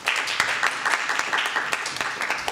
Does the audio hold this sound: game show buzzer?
no